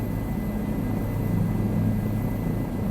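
Steady rotor drone and low thumping blade harmonics from a Bell 407 helicopter in Microsoft Flight Simulator 2024, heard from inside the cabin during a flight over Rio de Janeiro, continuous and fairly loud with no talk.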